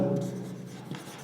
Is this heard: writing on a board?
yes